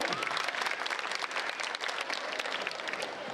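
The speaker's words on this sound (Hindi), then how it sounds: "यदि आपका मन सुनने का है तो एक बार तालियां बजाकर मुझे आदर्शित करें" Audience applause at a comedy poetry performance, a dense, steady round of clapping from a crowd that carries on throughout at moderate distance.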